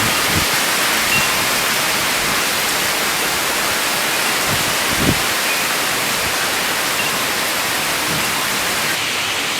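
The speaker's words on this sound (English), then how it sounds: "Look at that rain flooding down the street." A heavy rain downpour sound effect fills the whole stretch as a dense, loud, even hiss with a few low thumps, steady and with no voices.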